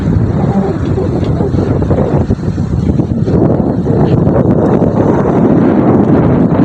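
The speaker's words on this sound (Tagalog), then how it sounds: "Hangin" Strong wind roars and buffets the microphone on a boat, a loud, continuous rumble with gusty swells and rustling.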